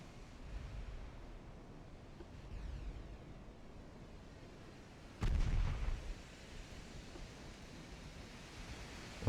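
Naval gunfire in the battleship strategy game Ultimate Admiral Dreadnoughts, set in a 1913 campaign: a muffled, rumbling distant bombardment over a steady sea-like wash, with one heavier, louder boom partway through, then more low rumbling.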